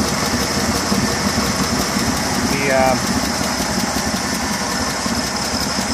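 A 1955 Fargo truck engine with dual carburetors and a newly fitted used exhaust system idles steadily nearby, a loud, even rumble with a slight knock and a brief swell midway, while someone talks over it.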